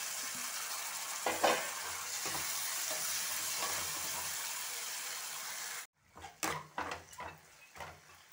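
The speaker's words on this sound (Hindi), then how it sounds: "टमाटर भी हमारे भुनने लगे हैं" Two small chopped desi tomatoes fry with ginger and garlic in a pan for veg keema, giving a steady close sizzle, then the hiss drops away into a few scraping, clattering stirs.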